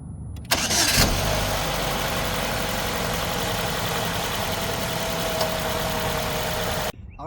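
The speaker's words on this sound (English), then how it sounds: "and then you can start your engine" A Chevrolet Cobalt engine cranks and catches just after its spark plugs have been replaced, then settles into a steady idle hum for several seconds before cutting off, close by with no talking.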